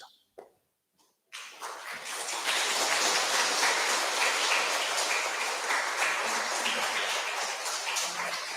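A church congregation applauding during a Sunday worship service, opening with a few isolated claps, then building into sustained, dense clapping that holds to the end.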